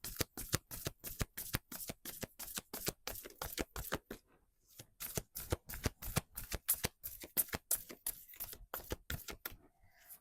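A Sacred Destiny oracle card deck is shuffled in rapid, crisp riffles, close and clear, with a brief pause before the quick papery bursts resume, then a short break near the end; no one speaks.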